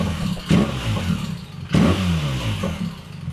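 A BMW R1300 GS motorcycle fitted with an Akrapovic titanium exhaust idles with a deep burble and is blipped twice, each rev a sharp, loud crack that climbs and then falls back to idle, close by.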